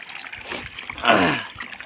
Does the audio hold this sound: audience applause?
no